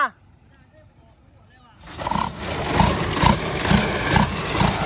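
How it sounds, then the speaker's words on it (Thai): A six-wheel truck approaches on a road beside a rice harvest in rain-soaked fields, its engine rising from quiet to a steady, fairly loud rumble with rhythmic pulses, after a brief voice at the start. "หกล้อกำลังมา"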